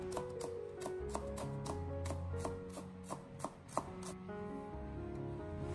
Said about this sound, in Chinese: 我们将它改刀切成葱花